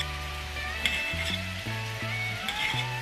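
Sliced zucchini frying in oil in a pan, a soft continuous sizzle under kitchen clinks and bumps, with a humming tone nearby throughout.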